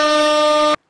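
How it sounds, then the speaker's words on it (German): An air horn emote in the Fortnite video game gives one loud, steady, brassy blast that cuts off abruptly after under a second. "Tröte geht raus."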